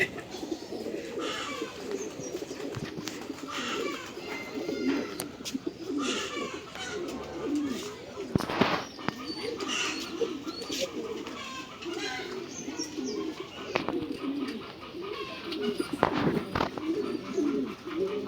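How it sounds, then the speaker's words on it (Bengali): Racing pigeons coo softly inside a loft amid a busy background, low murmuring calls repeating under nearby talk, with occasional wing flutters and clatter. "চুরিবাজ একটা কবুতর"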